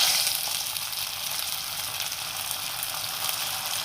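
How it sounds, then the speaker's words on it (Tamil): Curry leaves frying in oil for kambu pongal, a continuous bright hissing sizzle close by, steady and unbroken for a few seconds with no talk. "சேர்த்துட்டு நல்லா பொன்னிறம் ஆகிற மாதிரி வறுத்துக்கோங்க."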